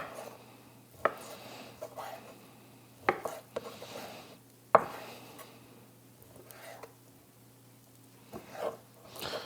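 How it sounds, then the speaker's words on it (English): A knife carves a beef roast into stew-beef chunks at home, with scattered sharp cuts and thuds against the board separated by quieter stretches of handling. "We carved that roast up, so we've got a great pile of stew beef"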